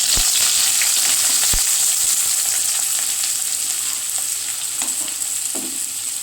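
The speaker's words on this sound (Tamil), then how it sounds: "நல்லா கோல்டன் ப்ரௌனுக்கு ஃப்ரை பண்ணிக்கலாம்" Onions and green chillies frying in hot oil and ghee give a steady, loud sizzle with occasional stirring knocks against the pan, no voices over it.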